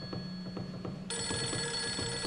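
Telephone ringing in the survival horror game Project Zero 3, a loud electronic bell tone sounding in short repeated bursts, then a brighter sustained ring swelling in, with no voices.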